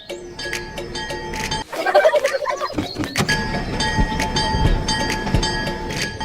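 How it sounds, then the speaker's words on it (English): A train passing close on a railway, loud rumbling and wheel clatter with a sustained horn-like tone, a brief dip in the noise, then continuous rolling noise. "The train continues its journey."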